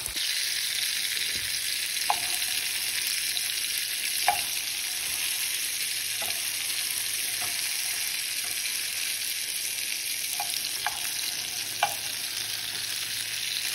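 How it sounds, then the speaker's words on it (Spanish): A pot of seafood soup with serrano chile cooks on the stove, giving a steady close hiss of bubbling and sizzling broken by a few faint clicks, with no voices. "Ahí se está cociendo, bandera"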